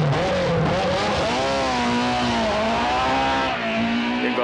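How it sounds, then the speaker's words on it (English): A BMW M3 rally car driven by Ingvar Carlsson at ADAC Rallye Deutschland 1990, its engine roaring loud and close under sustained load, with rising and falling revs as it accelerates and shifts. "Ingvar Carlsson at the wheel of a BMW M3"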